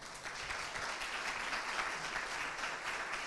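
An audience at a smart-cities panel session at a conference claps steadily for the three panelists, a dense, even wash of applause heard from within the hall, with no talk over it.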